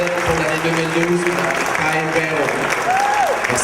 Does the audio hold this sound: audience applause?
yes